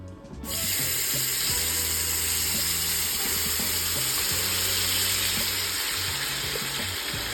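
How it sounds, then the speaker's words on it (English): Tomato mixture hitting hot oil for a Cameroonian dish, a sudden loud sizzle that settles into steady frying hiss with faint clinks of utensils, no speech. "I will add the tomato mixture and fry it in the oil"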